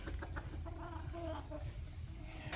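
Chickens clucking on a farm in late winter, soft overlapping clucks and calls at moderate distance over a steady low outdoor rumble.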